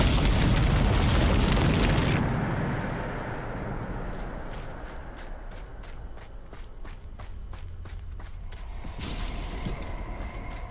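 A Bombarda spell explodes in the Hogwarts Legacy video game, giving a loud, booming blast that fades over about two seconds, followed by quieter rumbling, scattered crackles and footstep-like thuds, then another swell of noise near the end.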